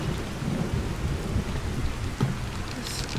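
Steady rain and low rolling thunder of a storm in the game Skyrim, a continuous dense wash with a rumbling swell and a sharper crack near the end, no talking.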